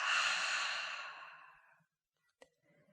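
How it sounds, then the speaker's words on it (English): A long, audible exhale at the close of a yoga class, breathy and fairly close, tapering off into near silence before a faint click. "Let's take one final deep breath in, and an audible breath out."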